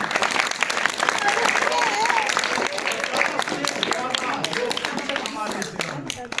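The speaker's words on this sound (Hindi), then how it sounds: "इसके लिए आप लोग करतल ध्वनि से ताली लगाएं अपने।" A village crowd at a National Youth Day gathering claps for local yoga teachers, a lively rattle of many hands under a voice and background chatter, steady throughout.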